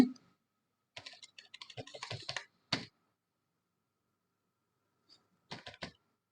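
Typing on a computer keyboard while entering CSS hex colour codes: bursts of quick, close key clicks, one dense run, a single stray tap, then a short flurry after a pause of silence.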